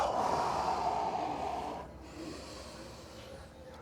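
A long, breathy exhale during a seated floor mobility workout, loud and close at first, then tapering into quiet after about two seconds, with no voices.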